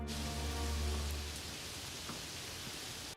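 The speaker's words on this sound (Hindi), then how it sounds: "और थोड़ी बारिश भी हो जाती है" Steady rain falling over an open farm field, a dense even hiss with low rumble that holds constant for the whole stretch, close and fairly loud with no voices.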